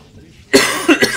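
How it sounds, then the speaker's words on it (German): A person coughing close to the mic, three harsh bursts in quick succession breaking a near-silent moment. "Sagt da und hustet noch mehr."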